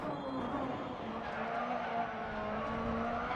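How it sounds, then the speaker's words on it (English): Rally car tyres skidding and scrabbling on gravel in a DiRT Rally Super 1600 rallycross race, a continuous gritty squeal over the engine drone, moderately loud and unbroken. "Front tyres are scrambling for grip on the gravel"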